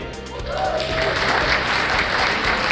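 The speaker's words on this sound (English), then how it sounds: "Let's give a big round of applause." Audience applause fills the hall at the 2017 Golden Balangay Awards ceremony, a sustained even wash of clapping that swells after a brief start and holds steady.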